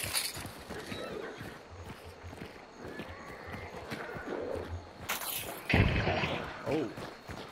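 A horse in the video game Hunt: Showdown, hooves clip-clopping in a steady rhythm with a whinny near the end, under quiet voices.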